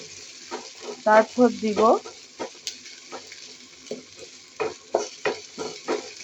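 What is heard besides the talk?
garlic, ginger and onion frying and being stirred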